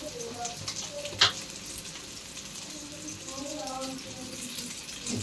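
Pieces of kaala fish frying in coconut oil crackle in a soft, steady sizzle, with one sharp clink and faint background hum; nobody speaks.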